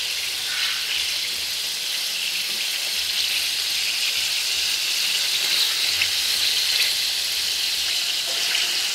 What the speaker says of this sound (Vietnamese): bây giờ em sẽ chiên cho tới lúc nào mà nó vàng đều là được ạ